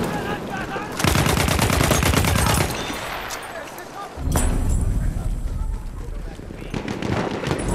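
Battlefield 1 video game gunfire: long loud bursts of rapid automatic fire separated by a short lull, close and dense, with a player talking over it.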